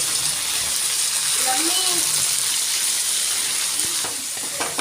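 Washed mutton pieces go into hot oil with green chillies for mutton fry, a steady broad sizzle filling the pan continuously, with faint clinks of stirring near the end.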